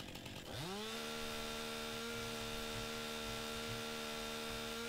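A chainsaw in Farming Simulator 19 revs up sharply and then holds a steady, loud buzzing drone, with a faint rhythmic chugging underneath and no talk.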